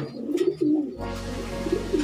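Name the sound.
young pigeon cooing at a loft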